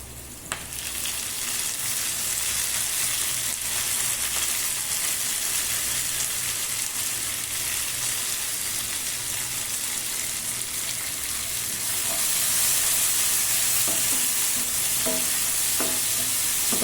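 Chopped tomatoes and onions sautéing in a pan for a bhindi kara kuzhambu, a loud, continuous sizzle that runs throughout, with a few light stirring knocks near the end and no voices.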